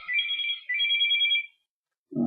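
A telephone ringtone sounds twice in close succession, moderately loud and alone, before a short silence and a brief low thump at the end.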